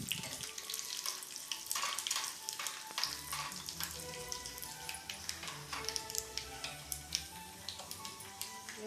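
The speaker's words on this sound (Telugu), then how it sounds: "వేగిపోయాయండి. పోపు ఇందులో వేస్తాం." Mustard seeds, cumin, fenugreek and a dry red chilli tempering fry in hot oil, a quiet steady sizzle with frequent small crackles and pops close by.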